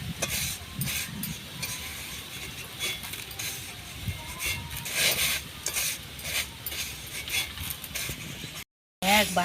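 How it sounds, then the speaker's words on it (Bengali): Rice puffing into muri in a traditional village pan is roasted and stirred continuously, making a dense rustling crackle and scraping with bursts of gritty sizzle and pan clatter, then a brief gap near the end. "বহু বছর পরে বন্ধুরা এই মুড়ি ভাজতে বসেছি।"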